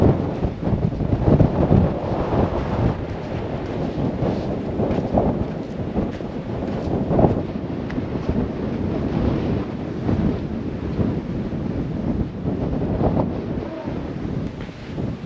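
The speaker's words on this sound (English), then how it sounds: "It's so windy up here." Strong wind buffeting the microphone on a clifftop at Ningaloo Station, a steady loud roar with gusty swells and surf-like rumble throughout, no voices.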